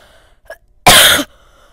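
A single loud, harsh cough bursts out for under half a second, close to the microphone, after a faint brief breath sound, with near silence around it.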